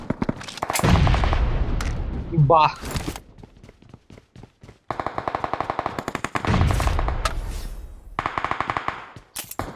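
Rapid bursts of automatic gunfire and single shots in a shooter video game, loud and close, alternating with quieter pauses, while a player talks over the action.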